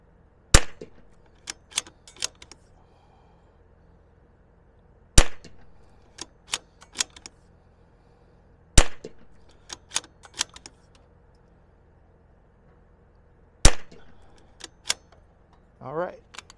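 A Zermatt Rim-X rifle fitted with a DPX bolt fires four sharp, widely spaced shots, each followed by bolt clicks and metallic handling, with someone talking in between.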